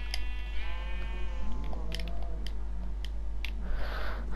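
Sheep bleating in Minecraft, several wavering bleats overlapping in a row, fairly close, with a continuous low hum and some faint clicks underneath.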